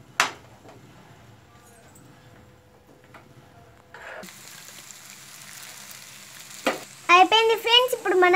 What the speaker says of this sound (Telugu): ఇప్పుడు మనం ఎగ్గేసుకొని కలుపుకుందాం